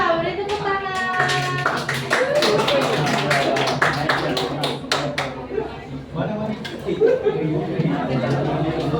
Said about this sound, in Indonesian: kelompok Ibra, beri tepuk tangan